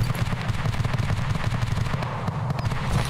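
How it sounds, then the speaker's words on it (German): Bursts of rapid gunfire crackle continuously, dense and close, like automatic weapons firing in the video game Escape from Tarkov. "Schüsse schon wieder. Ganz in der Nähe."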